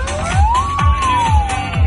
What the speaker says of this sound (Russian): В машине ГИБДД ребята говорили в рацию и включали сирену.